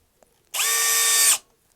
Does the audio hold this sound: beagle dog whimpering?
no